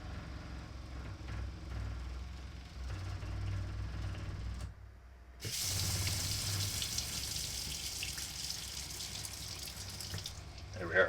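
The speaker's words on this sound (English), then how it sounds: "we'll open the tap here so it can backflow towards the pump" Water running from a faucet tap in a Winnebago Micro Minnie FLX RV, a steady hiss that briefly cuts out and then gushes back louder, with a low pump hum underneath early on.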